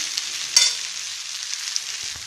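Szechuan fried rice with spring onions is stirred in a hot pan, giving a close, bright hiss of frying with a short scraping clack of the spoon.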